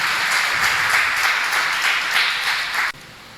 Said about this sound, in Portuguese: As palmas engrandecem o Rei Jesus.